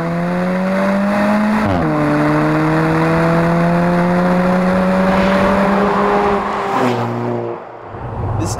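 A 2015 Alfa Romeo 4C with a 1.7-liter direct-injected single-scroll turbo engine drives along steadily, its engine note loud and close, briefly dipping in pitch as it shifts, then easing off near the end.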